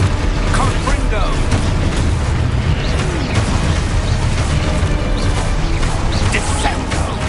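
In Hogwarts Legacy, a Confringo spell blasts amid a dense, loud battle of crashing booms, bursts and rumbling impacts that runs continuously, with a character's shouts mixed in.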